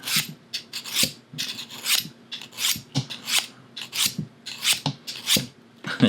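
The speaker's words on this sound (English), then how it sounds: "I should be able to sharpen a knife that way anyway" A knife is sharpened on a Work Sharp folding field sharpener with a quick run of rasping strokes, about two per second, close and crisp with short pauses between them.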